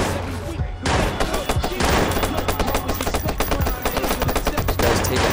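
Rapid, dense bursts of enemy gunfire in the Watch Dogs video game, a near-continuous crackle of overlapping shots with one brief lull early on.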